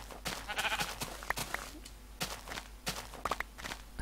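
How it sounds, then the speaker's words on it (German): Sheep bleating in Minecraft, several short bleats scattered through the clip over light footsteps and game ambience, fairly close and moderately loud. "Schon wieder Schafe."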